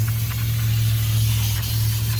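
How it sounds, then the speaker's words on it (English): A steady, forceful brake cleaner aerosol spray hissing continuously at close range over a low hum, during a Ford rear brake replacement. "You want to spray all around"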